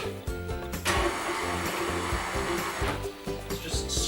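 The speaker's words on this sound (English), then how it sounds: "take our butter, add that to our mixer" An electric mixer whirs loudly and continuously as it beats butter with icing sugar, the motor pitch dipping and rising slightly as it works; no talking.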